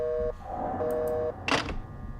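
Telephone tones in The Suffering video game as the handset is lifted: two steady electronic beeps, the first brief and the second about half a second long, followed by a short burst of line noise over a low game ambience.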